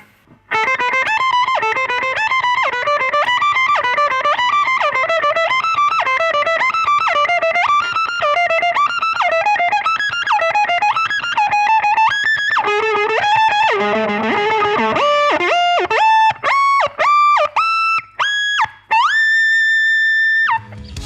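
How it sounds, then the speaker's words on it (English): Electric guitar through a Whammy pedal playing a fast neoclassical pattern, pitch shifting up and down in octaves with synth-like portamento slides, distorted and loud, ending in held notes that swoop upward in sharp steps. "I'm shifting the Whammy pedal up and down in octaves to give a kind of synth portamento slide effect to a fast neoclassical type pattern."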